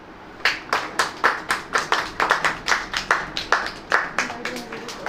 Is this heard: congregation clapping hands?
yes